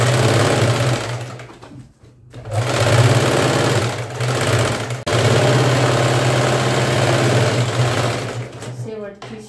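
A sewing machine stitching a blouse to take in a readymade blouse, its steady loud motor whir running almost continuously with two brief pauses, close up, and a voice heard faintly at times.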